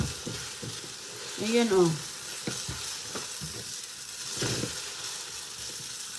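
Egg frying in butter in a pan, a steady soft sizzle running underneath throughout, with someone talking over it and a brief utensil clatter.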